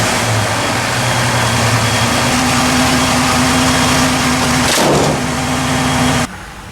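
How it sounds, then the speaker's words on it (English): A blue Ford Bronco with Holley Sniper EFI, an exhaust leak and squeaky belts runs loudly on a test drive, a steady close engine drone that drops away abruptly near the end. "Let's go for a test drive, see how this thing runs."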